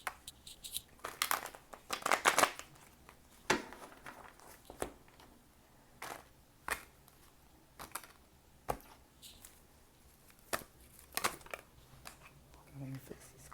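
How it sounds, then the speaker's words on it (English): Tarot cards shuffled by hand in a quiet room, coming as a series of short, crisp riffling and flicking bursts with pauses between them, fairly faint and close, with a low voice now and then. "Trying to get a good shuffle here."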